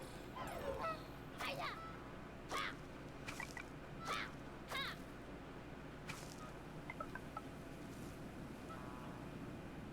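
Geese in the video game Knights and Bikes honk in a series of about six separate calls, fairly clear over a low ambient game bed with wind-like noise.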